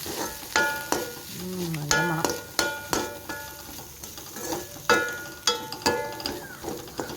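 Chicken masala sautéing in a pan, with loud sharp metallic scrapes and knocks of a spatula against the pan at an irregular rhythm over a steady sizzle, close up.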